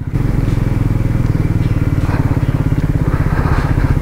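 A Royal Enfield Himalayan 450 rides over icy, shaded snow, its engine a loud, close, steady thumping drone with a rapid even pulse throughout.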